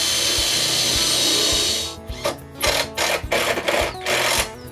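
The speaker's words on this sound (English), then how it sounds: "I drill some pilot holes and screw them off" A power drill whirs steadily while drilling pilot holes, then a driver screws timber sleepers for a natural stone retaining wall in short bursts of varying pitch, close and loud, with no talking.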